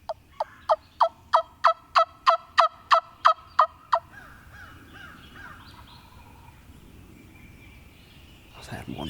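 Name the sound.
wild turkey gobbling in the distance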